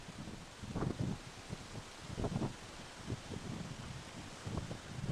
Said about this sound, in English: Look at this dang weather. It is windy as hell.